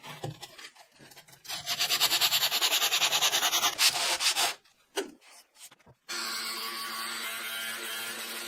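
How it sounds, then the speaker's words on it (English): A yellow rotary brush scrubs grime off flat steel stock in a workshop, giving a loud, steady abrasive whir that cuts out briefly, returns in short bursts, then settles into a continuous rough grinding hum. "A yellow rotary brush strips the grime."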